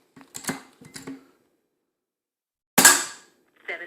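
A single sharp crack from a regulated Air Arms S200 .177 air rifle, loud and close, set between short bursts of quiet talk.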